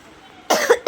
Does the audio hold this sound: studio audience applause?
no